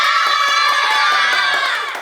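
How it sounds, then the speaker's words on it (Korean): A classroom crowd of children cheers and shouts together on cue, a loud, sustained burst of voices that fades out near the end. "박수와 함성"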